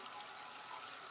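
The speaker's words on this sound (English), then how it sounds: "Just wash my hands." Tap water runs steadily into a sink while hands are washed beneath it, a soft continuous hiss at low level with no talking.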